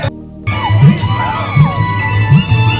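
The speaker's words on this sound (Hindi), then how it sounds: "और मेरे देखिए कितना पीछे भीड़ है" A village Holi celebration crowd mills close by, with overlapping voices, shouts and chatter rising in bursts after a brief quiet start.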